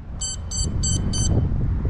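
Four short, evenly spaced high-pitched electronic beeps from a quadcopter's buzzer sound over a steady low rumble of wind or motor noise.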